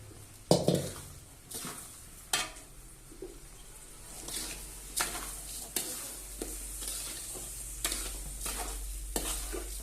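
Rice being stir-fried and roasted in a pan with browned onions, a spoon or spatula scraping and clinking against the metal in irregular strokes over a low, steady sizzle, with no talk.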